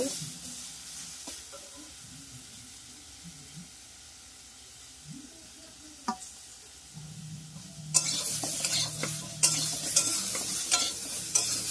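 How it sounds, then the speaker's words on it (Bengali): Bottle gourd is fried and stirred in a pan for khichuri: a soft scraping sizzle that swells sharply about two-thirds through into a loud, crackling fry with repeated stirring scrapes. "লাউটাও আমার ভাজা হয়ে এসছে"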